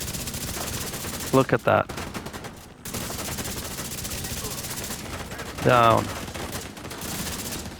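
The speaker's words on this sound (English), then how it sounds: "I get the shield out and start shooting" Bursts of automatic gunfire from a shield build in The Division 2, two loud rapid volleys a few seconds apart over constant game noise, with someone talking in between.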